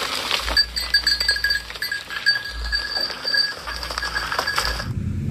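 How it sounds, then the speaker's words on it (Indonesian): Sheep bleating in a video game, a sustained high, nasal cry lasting several seconds over soft low thumps, ending abruptly. "Ini ada domba."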